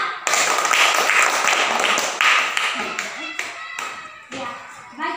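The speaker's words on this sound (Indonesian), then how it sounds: "mari kita tepuk tangan untuk Tasya" A classroom of children clapping for a classmate, a burst of close, dense hand claps that fades into scattered claps and taps, with children's voices chattering underneath.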